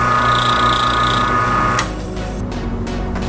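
A Mahlkonig Tanzania coffee grinder motor runs with a loud, steady mechanical whine and hum, then cuts off partway, leaving a quieter residual drone.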